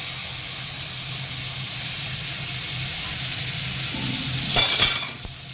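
Black cumin seeds sizzle in hot oil for a pabda fish curry, a steady broad hiss throughout that swells briefly near the end with a short burst of stirring; no voices.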